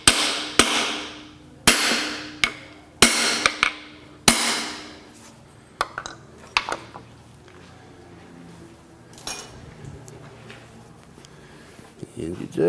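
Freeze plugs being hammered into a Chrysler/Dodge engine block with a socket: several sharp metallic hammer blows in quick pairs, then lighter taps, with someone talking between and over the strikes.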